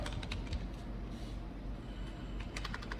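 A computer keyboard is typed on in short bursts of close, quiet key clicks, a cluster at the start and another near the end, with a pause between.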